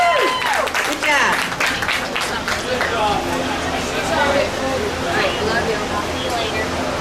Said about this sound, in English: Let's give Aubrey a round of applause.